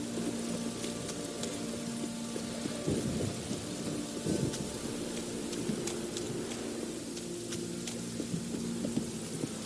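Steady rain in The Witcher 3: Wild Hunt, a continuous wash of falling water with low rumbling underneath and occasional faint clicks, constant in level with no talking.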